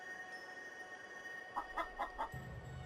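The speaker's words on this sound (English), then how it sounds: "I think this chicken's about to lay an egg" Chicken clucking in the video game Tales of Xillia: four quick, evenly spaced clucks, fairly faint over a quiet background hum.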